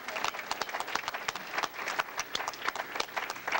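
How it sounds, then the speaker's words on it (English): A small crowd gives a round of applause at a Wilmington community award ceremony, with sharp, distinct hand claps that rise and fall unevenly throughout. "they're getting a round of applause from me"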